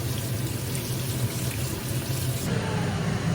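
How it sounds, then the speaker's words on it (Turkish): Romaine lettuce is rinsed under a running kitchen tap, giving a loud, continuous gush of water into the sink that shifts in tone partway through as the leaves move under the stream. "Şu marollarımı bir yıkayayım."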